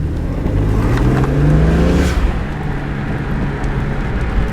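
A BMW E46 M3 CSL accelerates hard, its engine note rising steadily before a quick flat-shift from second to third, then pulling on with a loud, close, continuous roar. No one speaks.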